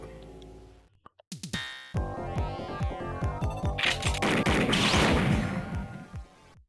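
Gunfire in Cyberpunk 2077 with the Snatcher mod: after a few sharp clicks, a dense run of rapid, loud shots and impacts rattles on for several seconds, building into a roaring burst before cutting off.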